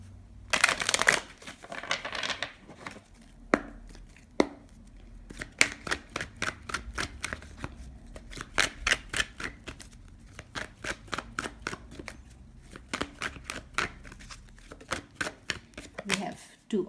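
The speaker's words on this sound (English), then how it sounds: "Let's pull some tarot cards first." Tarot cards are pulled and handled from a deck at close range, giving a long run of crisp papery flicks, snaps and rapid riffling clicks, some in quick bursts, with no voices over them.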